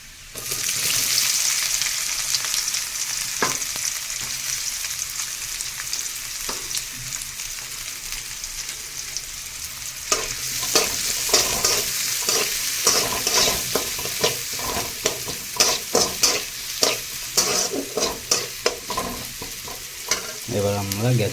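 Chopped onion hits hot oil with already-fried garlic and ginger for okra do pyaza, a steady loud sizzle with frequent stirring scrapes and clacks that grow busier in the second half.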